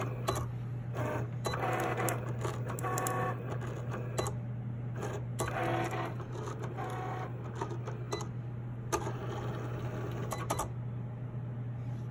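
A Cricut machine cutting iron-on vinyl (HTV) for fabric runs with a steady low motor hum and intermittent whirring, clicking carriage movements, close and continuous with no talk.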